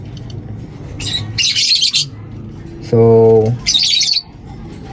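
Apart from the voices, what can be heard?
pet birds chirping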